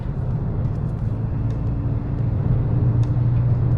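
A Vauxhall Corsa's 3-cylinder engine in sport mode, heard from the cabin as a steady low droning rumble with road noise, even and unbroken while driving.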